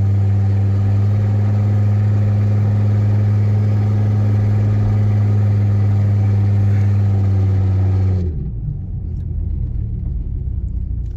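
A Hummer H3 engine runs rough with its O2 sensors unplugged while driving, a loud steady low rumble with a droning hum that drops off abruptly near the end into quieter road noise.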